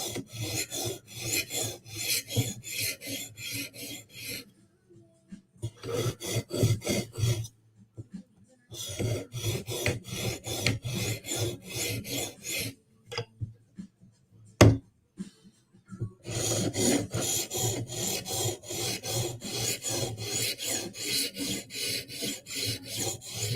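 A blade is drawn across a sharpening stone in light, even strokes to take off the burr: rapid rhythmic rasping bursts, close and clear, broken by short pauses and a single sharp knock.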